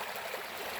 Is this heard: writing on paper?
no